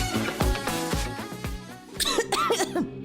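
Several harsh, close coughs burst out in quick succession in a cough medicine radio ad, followed by strained, wheezy vocal sounds with a music bed underneath.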